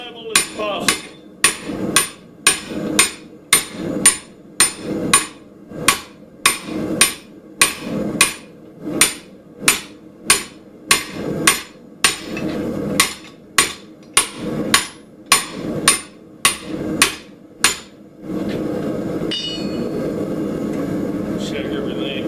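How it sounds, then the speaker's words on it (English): Steady hammer blows fuller a steel pipe into a bamboo shape, some twenty loud, evenly spaced metallic strikes ringing one after another over about eighteen seconds, followed by a lower continuous roar like a forge burner. "Remember, when you're fullering it, keep it as level as possible."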